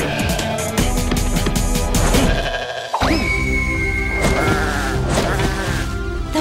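Sheep bleat repeatedly over a busy, loud backdrop of music and electronic sound effects, with a buzzing insect-like whine mixed in.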